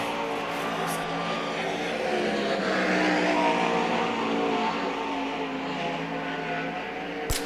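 Sprint cars race on the dirt track at Knoxville Raceway during an All Star Sprints event, engines droning continuously at a distance and swelling slightly midway, with no talk over it.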